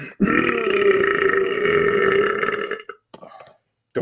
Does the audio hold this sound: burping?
yes